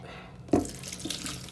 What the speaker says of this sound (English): The ramen's done boiling, so I'm gonna strain it and give it a wash.